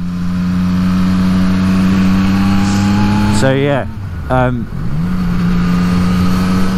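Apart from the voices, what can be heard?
Yamaha MT-09 motorcycle riding on road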